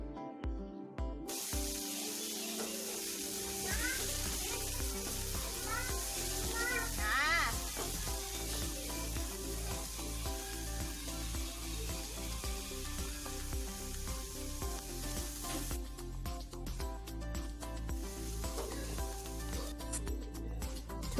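Onions and green chillies with salt frying in a pan for tomato soup, a continuous crackling sizzle close by, steady with light clinks and rustles of stirring, running under a home kitchen's background sounds.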